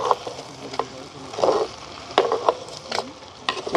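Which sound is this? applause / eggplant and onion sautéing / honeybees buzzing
eggplant and onion sautéing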